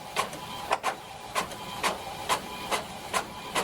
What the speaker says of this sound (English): It's pulling that paper through. I think it's going to print.